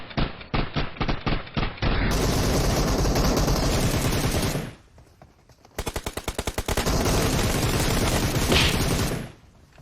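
Bursts of rapid automatic gunfire in PUBG Mobile, rounds hammering a house wall, with loud, close volleys broken by a short pause before another sustained stream of shots.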